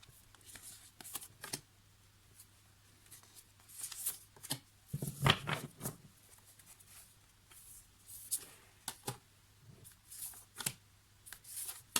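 Tarot cards shuffled by hand in bursts of riffling and sliding, with a louder flurry near the middle and softer intermittent rustles throughout, heard alone against a faint low hum.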